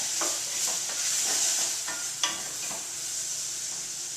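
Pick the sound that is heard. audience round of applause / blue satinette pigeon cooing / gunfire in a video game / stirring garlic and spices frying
stirring garlic and spices frying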